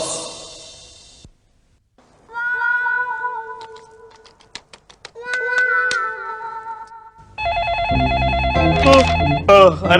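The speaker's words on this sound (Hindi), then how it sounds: "देखो फोन किसका है भाई।" A telephone rings in a home during a domestic sitcom scene, its trilling electronic tones coming in a few bursts close by, with a musical sting rising near the end and no clear talk over it.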